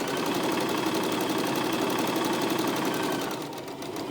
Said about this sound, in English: let's sew that straight stitch here.